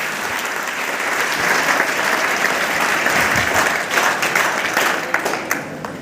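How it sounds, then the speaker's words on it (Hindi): A hall full of schoolchildren at a district children's science congress bursts into applause, dense clapping sustained at a steady, fairly loud level for the whole stretch before it begins to thin out. "अगर अच्छा लगा हो तो एक बार ताली हो जाती है।"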